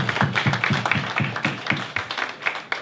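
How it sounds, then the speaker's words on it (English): An audience at a panel at the 2019 Turkey Summit claps in a steady round of applause, with dense, rhythmic claps lasting a few seconds and no talk over them. "Big round of applause."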